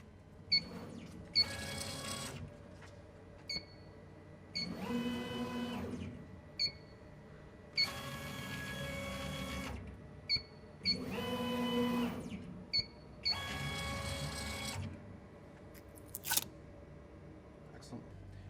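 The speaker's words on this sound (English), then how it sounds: "you want to fire the laser in all 4 corners to make sure that it's actually centered" A BOSS Laser Gen 3 laser cutter fires short pulses during mirror alignment, giving four separate bursts of humming and buzzing with sharp clicks between them over a steady machine drone.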